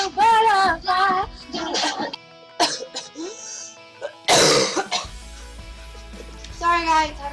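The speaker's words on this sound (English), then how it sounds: "had a cough" One harsh, loud cough bursts out between stretches of a voice singing, close to the microphone.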